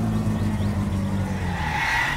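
A rally car in the video game My Summer Car, its distributor tuned and topping 160, speeds along a road with a loud, steady engine drone and tyre rush that never lets up.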